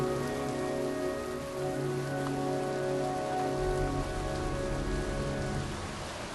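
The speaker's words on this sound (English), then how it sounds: "It's cold. It's raining." Steady rain falling in the video game Heavy Rain, a continuous hiss of drops on surfaces with a low humming background and no talking.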